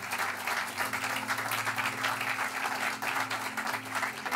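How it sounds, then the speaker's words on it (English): Sustained audience applause at a business organization's event, a dense, even wash of clapping from a large crowd with a steady low hum running underneath. "Please give them a round of applause."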